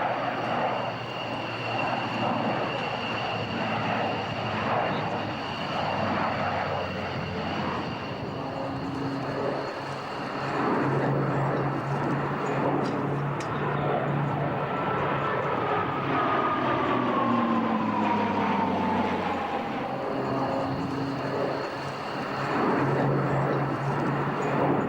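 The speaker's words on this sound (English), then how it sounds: "Lockheed Martin came in with Alenia to build this aircraft. It has the same engines that the Hercules has" Turboprop engines of an Alenia/Lockheed Martin transport aircraft, the same engines as the Hercules, drone steadily at an airshow, a loud continuous roar with a slowly shifting tone as the plane passes.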